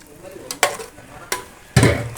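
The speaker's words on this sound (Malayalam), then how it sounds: "തക്കാളി അരച്ചത് ഇട്ടിട്ടുണ്ട്. നല്ലോണം മിക്സ് ആക്കണം." Ground tomato stirred into sautéed onions in a pan for tomato rice: a few scraping spoon strokes and clanks against the pot over a soft sizzle, ending in a louder wet stir.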